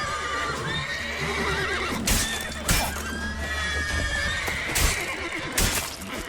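A horse neighs loudly in The Witcher 3: Wild Hunt, with clip-clop hooves and several sharp combat hits on a steady background, and no talking.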